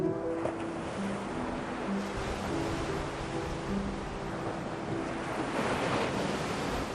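Ocean waves wash onto a beach at night under a full moon, making a continuous broadband surf hiss with gentle swells and some wind noise, and no voices.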